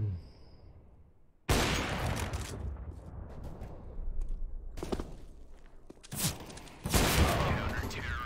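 Bursts of gunfire in the tactical shooter CS:GO, several sharp loud volleys separated by quieter stretches of movement, with voices talking in the background.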